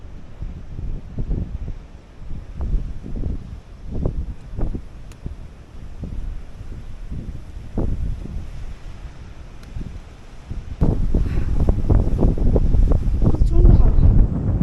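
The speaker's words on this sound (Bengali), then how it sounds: "প্রচন্ড হাওয়া," Strong mountain wind on the Annapurna Base Camp trek buffets the microphone with deep, rumbling gusts that grow louder and rougher toward the end.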